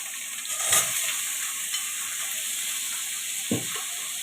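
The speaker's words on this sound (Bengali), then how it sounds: "আর দেখো আমার পনিরটা আমি ভাজছি আর কথাগুলো বলছি" Paneer fries in a hot kadai with a constant sizzle, broken by a few sharp stirring scrapes and clinks, close and fairly loud, with no talking.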